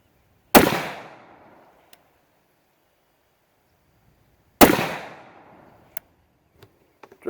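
Two sharp FN 5.7 pistol shots ring out at an outdoor range about four seconds apart, each loud crack trailing a short echo, with small clicks afterward.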